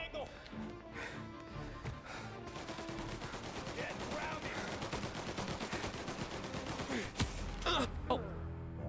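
Sustained gunfire in the crime game Mafia, a long, steady rattle of automatic shots with a few louder single cracks near the end, while someone talks over the shooting.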